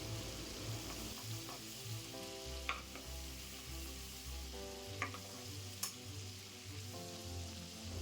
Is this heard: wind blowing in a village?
no